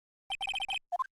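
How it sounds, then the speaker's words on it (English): A cell phone in the Phoenix Wright video game plays the Steel Samurai ringtone, a short bright electronic jingle of rapid repeated beeping tones followed by a brief rising three-note phrase. "Stupid sounding ringtone."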